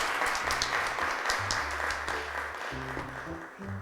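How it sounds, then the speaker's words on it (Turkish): A studio audience on a children's television show applauds to welcome a young guest, moderate steady clapping mixed with a low musical tone underneath. "Arkadaşımız Elif Mediha'yı alkışlarla çağırıyoruz"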